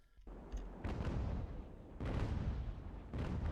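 Heavy naval cannon broadsides in the age-of-sail game Ultimate Admiral Age of Sail, booming in repeated rolling volleys at about one-second intervals with sustained rumbling between shots, loud and close.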